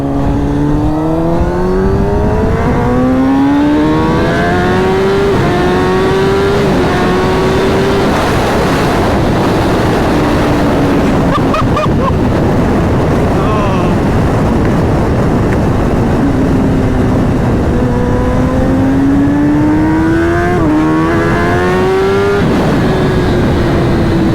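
A 2021 Kawasaki ZX10R SE superbike engine revs loudly while riding, pitch climbing through gears and falling between shifts, with heavy wind rush throughout.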